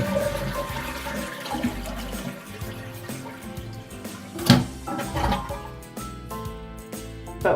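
A toilet flushes after a stuck float chain is freed, with a continuous rushing, gurgling swirl of water that trickles and drains over several seconds, close and moderately loud, no talking.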